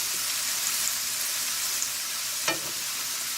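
Garlic and onions frying in a pan on a gas stove give a steady soft sizzle throughout, with a brief clatter of stirring near the end and no talking.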